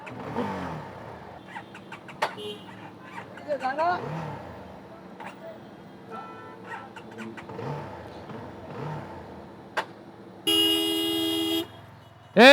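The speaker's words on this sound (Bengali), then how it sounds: "রাস্তায় হর্ন দিতেছে কানে শোনেন না" A vehicle horn blares on a road in one sustained loud honk near the end, after scattered traffic noise, engine sounds and people talking.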